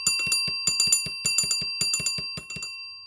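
A DIY AC oscillator doorbell driver rings a bell in quick, metallic dings grouped in short bursts. The strikes stay close and clear, then weaken and space out toward the end.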